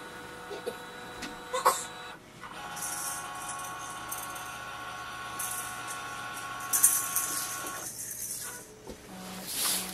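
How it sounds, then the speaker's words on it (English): A Brother HL-L2390dw printer scans a page with a steady mechanical whir and hum, broken by clicks and rattles near the start and a louder surge of movement toward the end, with no talk. "click on the scan here. It will send a command for the printer and the scanning will arrive here"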